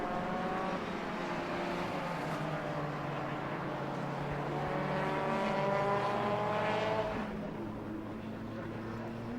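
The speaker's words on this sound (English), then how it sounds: "they're coming up to lap the first of the back markers, which is Kevin Hancock at the wheel of his Porsche Boxster" Race cars lap the Silverstone circuit during a Britcar Trophy race, their engines droning steadily in the distance with a rising and falling whine as they pass, under faint commentary.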